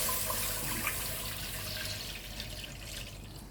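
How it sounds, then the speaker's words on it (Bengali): Milk poured into a simmering pot of pasta rasgulla payesh, a faint steady liquid pour and splash with a low background hum, with no talking. "এবার আমি এর মধ্যে দুধ দিয়ে দেবো।"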